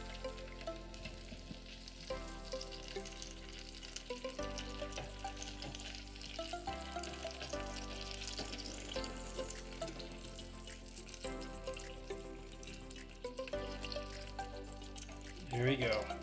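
Bacon-wrapped shrimp sizzle steadily in an air fryer basket as they are turned over at the halfway point, with soft clinks and shuffling from the flipping under a continuous frying hiss.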